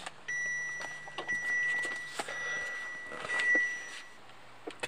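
Warning beeps from a Ford car: a steady, repeated electronic tone that sounds as short pulses and held stretches, clear and nearby over low cabin noise, with faint clicks and rustling.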